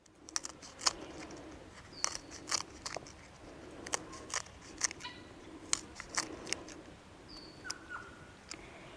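Knife slicing winged beans on a long diagonal for stir fry, a series of crisp, sharp cutting clicks at an uneven rhythm, close and fairly quiet, with no talk.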